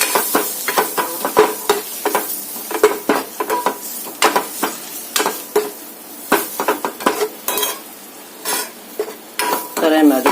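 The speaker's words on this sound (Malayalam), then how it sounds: "ഇനി നമുക്ക് അതിലേക്ക് മുട്ട ഇട്ടൊന്ന് ചെറുതായിട്ടൊന്ന് റോസ്റ്റ് ചെയ്യാം." Eggs are stirred and roasted in a hot pan, with a spoon scraping and clinking against the metal in quick repeated strokes over a steady sizzle of frying, loud and close.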